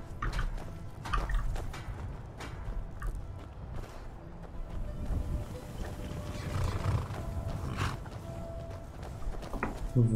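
A horse in the video game The Elder Scrolls V: Skyrim snorts and whinnies amid clopping and rustling, with a low rumbling background throughout.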